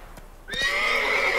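Roach, the horse in The Witcher 3, gives a loud, close neigh after a few soft hoof thuds, the whinny ringing out and trailing off over the last second.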